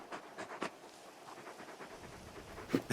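In Final Fantasy XVI, a large dog pants in quiet, uneven bursts of breathy huffs, close but faint, with brief soft movement sounds between them.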